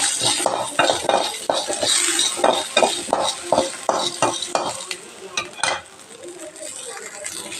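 Four dried red chillies fry in a pan, with loud sizzling and steady rhythmic scraping and clinking of a utensil stirring, close up and without talk.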